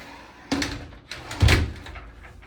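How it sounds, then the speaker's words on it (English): A hotel closet door, knocked off its track, bumps against the in-closet safe door with two distinct knocking thuds, close and moderately loud in a quiet room. "Oh, no, I'm hitting the safe door."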